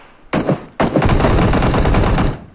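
Loud, close automatic gunfire from PUBG Mobile erupts after a short shot, then rattles on as one sustained rapid burst.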